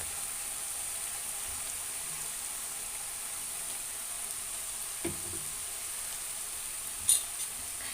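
Tomato and chilli sauce sizzling in a pan of leftover biryani, a soft, steady frying hiss with a couple of faint utensil taps, quiet and close.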